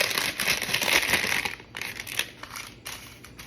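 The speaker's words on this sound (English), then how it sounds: "just tear it, or you cut it with scissors" Paper sheet torn by hand or cut with scissors in a home kitchen while lining a dish, giving a loud crinkling, rustling tear for about a second and a half, then softer crackles and rustles.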